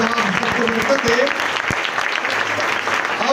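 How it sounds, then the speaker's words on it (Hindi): A large congregation at a Christmas church service applauding loudly and steadily, a dense wash of clapping that fills the room while a voice speaks over it. "अपने आप के लिए भी जोरदार तालियां बजाएंगे।"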